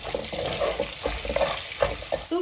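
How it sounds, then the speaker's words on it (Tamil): Garlic fries toward golden in prawn oil for prawn pickle, with a continuous close hiss and soft bubbling crackle, plus a few light stirring knocks and no speech. "இந்த பூண்டு நல்லா ஒரு கோல்டன் ஃப்ரை ஆகிற வரைக்கும் அப்படியே வறுத்துக்கலாம்."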